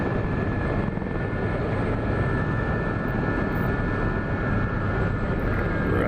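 An SA-342 Gazelle helicopter in the DCS flight simulator drones with a steady, loud, unbroken engine and rotor roar throughout, with no voices.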